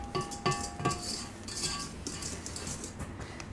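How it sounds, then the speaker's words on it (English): A whisk mixes homemade red velvet cupcake batter by hand in a bowl, giving steady scraping and clinking strokes with a few sharper taps against the bowl, close and fairly quiet. "I think I'm gonna do this by hand again with this whisk."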